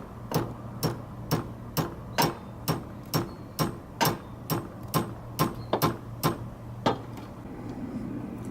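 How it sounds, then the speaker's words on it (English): A hammer taps a nut onto a scooter stud, producing about sixteen light, evenly spaced metallic clicks at a steady rhythm over a low background hum. "Give it some taps."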